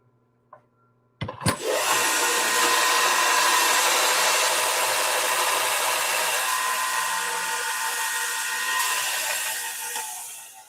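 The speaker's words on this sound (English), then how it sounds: "Had to put that in the sander just to clear the edges." A bench sander grinds the rough edges of a turned pen blank, starting with a couple of sharp contact knocks before settling into a loud, steady broadband whir that holds for nearly ten seconds and then tapers slightly.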